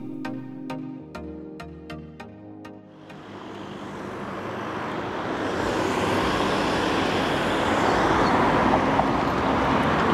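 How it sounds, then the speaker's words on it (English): Loud, noisy street traffic at the busy Five Corners junction in Sunny Beach, Bulgaria, a dense wash of passing engines that swells and stays heavy after a brief stretch of music at the start. "I'm at Five Corners, it's really noisy. Loads of traffic."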